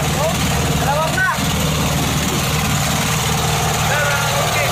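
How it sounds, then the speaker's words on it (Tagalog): A traditional squid-fishing boat's engine runs steadily throughout, a continuous low droning hum close by, with people talking over it. "Yan yung makina namin."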